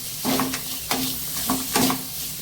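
Coconut and peanuts dry roasting in a pan for spicy peanut chutney, with a loud, close scrape of stirring repeating about every half second over a steady sizzle.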